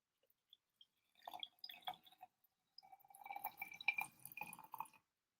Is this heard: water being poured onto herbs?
yes